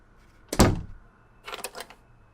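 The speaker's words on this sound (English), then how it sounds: "I hear my father yelling as he continues banging on my door for a while." A heavy thump against a bedroom door followed a second later by a softer, rattling knock, two separate bangs with quiet between them.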